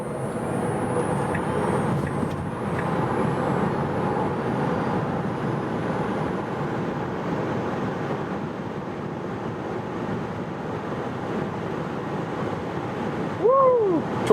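A long range all-wheel drive Tesla Model Y accelerating at high speed on an empty motorway, a steady loud roar of wind and road noise inside the cabin, with a brief rising whine near the end.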